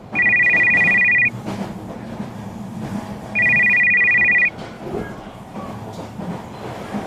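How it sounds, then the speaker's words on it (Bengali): A mobile phone rings in two bursts of a bright electronic ringtone, each lasting about a second, over the steady rumble of a moving train carriage. "ঠিক তখনই আমার ফোন বেজে উঠল।"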